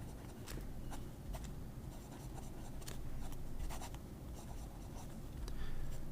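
A Chinese inset fountain pen nib writing on paper, close soft scratching strokes in quick irregular bursts over a faint background hiss, with no talking.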